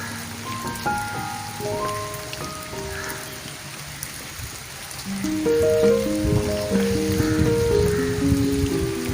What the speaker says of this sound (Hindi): बरसात में तकरीबन ये दूसरी बारिश है जो इतनी शिद्दत से हुई है